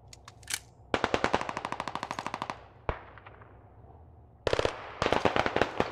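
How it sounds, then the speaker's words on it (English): Bursts of automatic gunfire in the video game Squad, rapid loud repeated shots in long strings with short pauses, then a single crack and further fast volleys, no talking. "Oh, they're trying to shoot us,"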